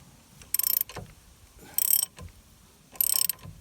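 A puller cranked to press out a Volkswagen Vanagon trailing arm bushing gives three bursts of rapid ratcheting clicks, close and loud, separated by short pauses with faint metal clunks.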